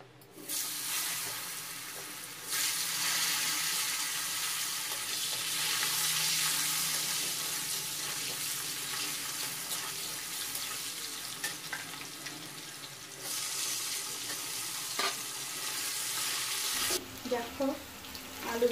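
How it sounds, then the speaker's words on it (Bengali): Potatoes sizzle and hiss steadily while frying in a wok, a broad continuous crackle with occasional stirring scrapes and a brief pause toward the end. "এখন আলুগুলো আমি ভেজে নেব।"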